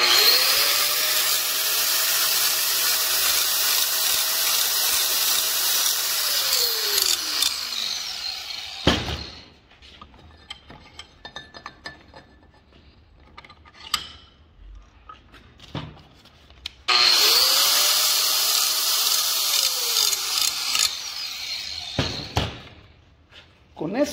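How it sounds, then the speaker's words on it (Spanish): A grinder fitted with a polishing disc runs steadily against a metal template edge to leave it exact, a loud sustained whine for several seconds, then pausing and starting again later for another long pass. "si con el disco de nuestro pulidor le damos una pulidita a nuestra plantilla"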